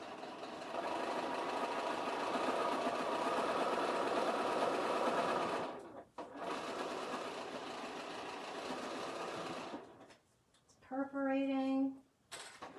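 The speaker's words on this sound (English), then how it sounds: "I'm going to sew them together." Bernina sewing machine stitching paper-pieced quilt blocks together: a steady, close, fast mechanical whirr that stops briefly, runs again, then ends as a voice speaks over a few tones.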